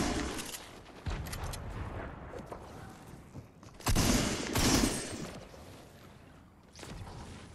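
Video game gunfire on a PS4 or PC comes as dense, noisy bursts of shots and crashes that swell loudly near the middle, with no voice heard.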